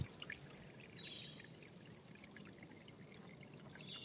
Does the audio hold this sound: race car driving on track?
no